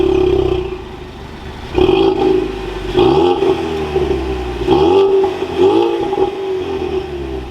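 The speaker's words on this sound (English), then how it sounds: "let's fire this EcoBoost up now" A 2022 Ford Mustang EcoBoost fires up by push button, the engine catching with a loud burst and then revving up and settling several times in a close, throaty idle.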